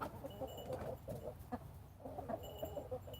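Farm chickens cluck steadily during morning chores on a farmstead, a busy overlapping chorus of short clucks and calls close by, with no talking.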